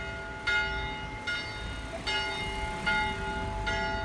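A modern church bell rings near Punta Brava, its clear, resonant strikes repeating at a steady, unhurried pace roughly every second over a low outdoor background hum.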